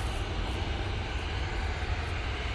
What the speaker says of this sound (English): There's another Ryanair making its way over towards us as well.